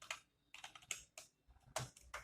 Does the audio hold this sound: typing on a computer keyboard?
yes